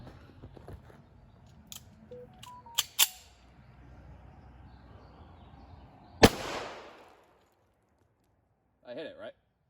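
A single loud .45 pistol shot from a Norinco 1911-A1 fired into a watermelon, a sharp close crack with a short decaying tail, preceded by handling clicks and quiet background talk.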